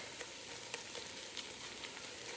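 Onions for French onion soup caramelize in a pot, a soft continuous sizzle with occasional light pops and stirring clicks, quiet and close with no voices.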